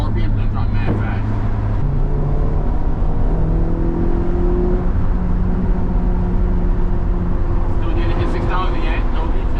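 A Honda Civic Si with an Exedy Stage 1 clutch kit revs up through the gears, its loud, steady cabin drone climbing in pitch and then dropping at a shift, with people talking over it.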